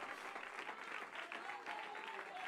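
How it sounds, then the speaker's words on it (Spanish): A church congregation claps in praise during a sermon, the applause soft and distant, a continuous patter of many hands with faint voices mixed in. "Si lo cree, denle ese aplauso al Eterno"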